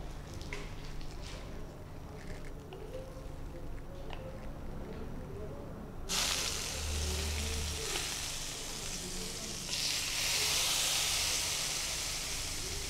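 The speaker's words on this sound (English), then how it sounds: "that's really just the marinade sizzling against the mushrooms." Marinated mushrooms hitting a hot pan, a broad frying sizzle and hiss that swells abruptly midway and grows louder again near the end, with a voice talking over it.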